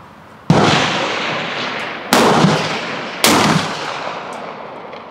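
Three loud, sharp reports from an 1893 trials Krag-Jorgensen rifle at an outdoor range, irregularly spaced, each followed by a long fading echo.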